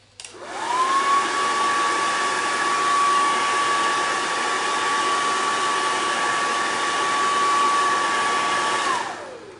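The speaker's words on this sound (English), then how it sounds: "I'll blow dry it. This part's wet still." A hair dryer blows steadily on wet chalk paste coating a wooden craft heart, a loud, even whine that rises at switch-on, holds for about eight seconds and then winds down, with no voices.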